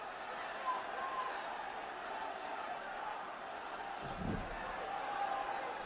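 Sellout arena crowd at a Goldberg versus Brock Lesnar wrestling match, a steady roaring wash of many voices with rhythmic chanting swelling throughout, one deeper thump near the end.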